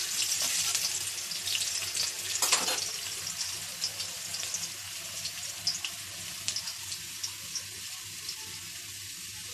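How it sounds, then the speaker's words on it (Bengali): Sliced onions frying in hot oil in a home kitchen give a continuous, close crackling sizzle that fades somewhat over time, with no voices. "পেঁয়াজটা ভাজা ভাজা হয়ে গেছে"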